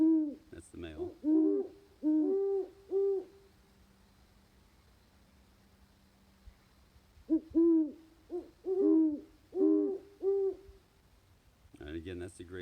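A human voice imitates a great horned owl pair, giving deep, soft hoots in two rhythmic series of five or six notes. The series are separated by a quiet pause, with some rustling at the end.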